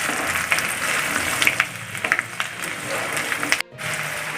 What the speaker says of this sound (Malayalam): അതിൻ്റെ കൂടെ തന്നെ വെളുത്തുള്ളി അരിഞ്ഞ് ചേർക്കാം ഒന്നൊന്ന് വാടിക്കോട്ടെ